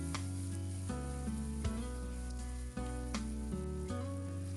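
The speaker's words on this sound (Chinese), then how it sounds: "翻炒均匀，炒出香味。" Enoki mushrooms with scallion, ginger, soy sauce and oyster sauce sizzle in a wok, a steady hiss punctuated by periodic scraping strokes of the spatula, with faint music playing underneath.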